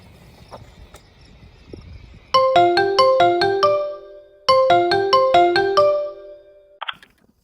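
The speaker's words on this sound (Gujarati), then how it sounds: "લઈલા આજે પેલાને ફોન કરું રાજુને." A mobile phone rings during a call with an electronic ringtone melody. Two loud bursts of quick descending chimes repeat close by, with a short gap between them and soft background noise before and after.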